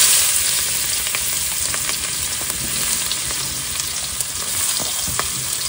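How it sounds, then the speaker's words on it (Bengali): Onions fry in a hot pan with a dense, loud, steady sizzle that runs unbroken throughout, with faint stirring scrapes now and then and no talking. "এবার দিয়ে দেবো পেঁয়াজ"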